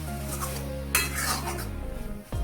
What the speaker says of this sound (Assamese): এতিয়া অলপ সময় লাৰিম